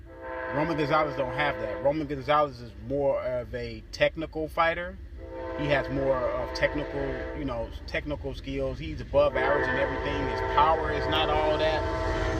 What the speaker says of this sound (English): Sorry about the goddamn train, people, but I'm outside.